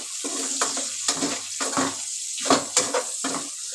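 Chopped onions frying in a pan for a cabbage dish, a bright steady sizzle broken by repeated bursts of stirring and scraping, close and fairly loud, with no talking.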